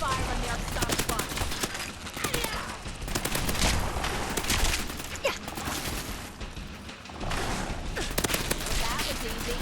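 Dense, rapid gunfire in Fallout 4 crackles almost continuously in a heavy combat fusillade, with overlapping automatic bursts and shots, loud and close, while voices speak over the shooting.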